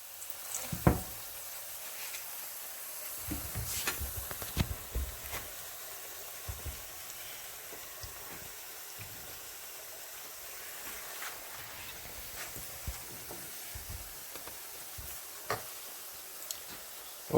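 Pressed plantain fries in a hot pan, giving a faint, steady sizzle with scattered small ticks and pops throughout and no voices.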